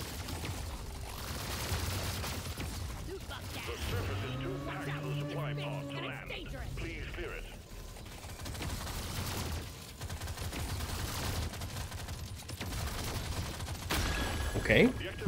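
Rapid, continuous carbine fire from Deep Rock Galactic Survivor rattles on steadily throughout, mixed with game effects, while someone talks over it.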